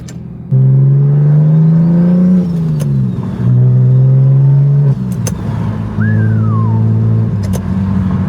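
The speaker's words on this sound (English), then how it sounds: "That T51R mod just sounds insane on this thing" A BMW F80 M3 with a single T51R turbo conversion revs repeatedly in close bursts, with a high turbo whistle and sharp pops between the loud revving pulls.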